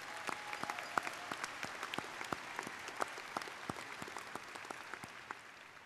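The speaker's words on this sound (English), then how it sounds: "Let's give them a round of applause for those accomplishments." A graduation ceremony crowd in a large hall claps for a high school class, a sustained bed of many hands with distinct individual claps ringing through, even and continuous.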